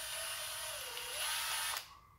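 A drill fitted with a small wire brush scrubs plating off metal, giving a thin, fairly quiet whine that dips and rises in pitch before cutting off abruptly near the end.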